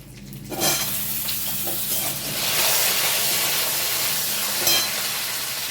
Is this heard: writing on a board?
no